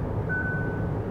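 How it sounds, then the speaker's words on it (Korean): A 2020 Hyundai Grandeur sounds a take-the-wheel warning alarm, a single thin high electronic tone held briefly over low cabin rumble, quiet and close. "15초쯤 됐을 적엔 이제 사운드로 알람을 또 주네요"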